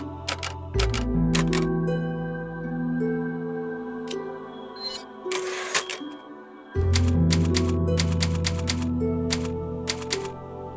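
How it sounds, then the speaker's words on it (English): Typewriter keys clack in quick bursts at a save point in Resident Evil 4, crisp close strikes layered over sustained orchestral music, with a short gap and one sweeping swell midway. "pairing the music with the symphonic sounds of the typewriter keys"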